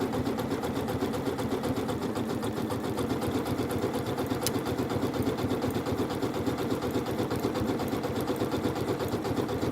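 A Janome sewing machine fitted with a circular attachment stitches continuously, a steady rapid mechanical whirring hum of even rhythm held at moderate volume throughout, with no voices.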